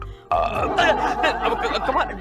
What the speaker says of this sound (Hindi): डकार कहाँ से आ गया?